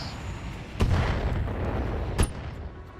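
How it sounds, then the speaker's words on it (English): A Thunderbolt missile explodes in the Roguetech game, with two sharp booming impacts over a steady rumbling battle din and no talk. "That was a Thunderbolt missile."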